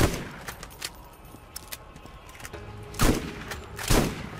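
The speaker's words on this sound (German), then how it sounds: "Endlich wieder eine schnell schießende Shotgun." Rapid-firing shotgun blasts in the video game Borderlands, heard as sharp close reports with a couple of heavier bursts near the end over a steady game background, no voices.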